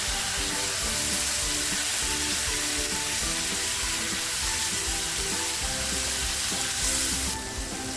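Tomato puree fries in hot oil in a pan for a bhindi masala, producing a loud, unbroken close sizzle with faint bubbling and stirring underneath and no talking.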